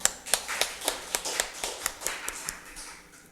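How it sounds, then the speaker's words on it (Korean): Congregation clapping rhythmically at a Korean church Sunday service marking the church's second anniversary, a steady beat of sharp, evenly spaced claps that slows and fades toward the end. "하나님께 우리 영광의 박수"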